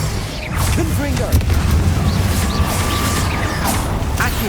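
A Confringo fire-blast spell going off in Hogwarts Legacy, a booming burst followed by rumbling combat effects and whooshing, mixed with game voices and noise that carry on throughout.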